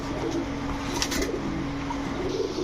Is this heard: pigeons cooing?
yes